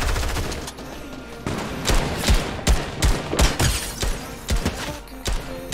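A legendary assault rifle fires in Fortnite, loud repeated bursts of close shots with punchy thumps and a steady rattling rhythm that grows heavier partway through, no talk over it.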